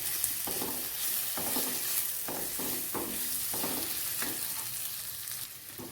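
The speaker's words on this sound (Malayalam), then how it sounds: "അരിഞ്ഞെടുത്ത് വെച്ചിരുന്ന ഏത്തപ്പഴവും കൂടി ഇതിനകത്തേക്ക് ഇട്ടൊന്ന് നന്നായിട്ടൊന്ന് വിളയിച്ചെടുക്കുന്ന പോലെ എടുക്കാം." Chopped plantain frying in ghee, a soft continuous sizzle broken by regular stirring scrapes about once a second, fairly quiet with no voices.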